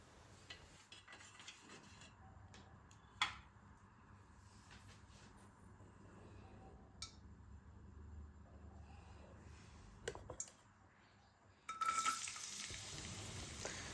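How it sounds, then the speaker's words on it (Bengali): Chopped garlic dropped into hot oil for pav bhaji, giving a faint, steady sizzle with a few sharp clinks of a utensil, then a louder, brighter frying hiss that swells near the end. "এর মধ্যে আমি কুচনো গার্লিকটা দিয়ে দেবো"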